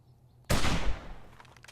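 A single loud, close gunshot in the survival game 7 Days to Die, a sudden blast that rings out and decays slowly over about a second.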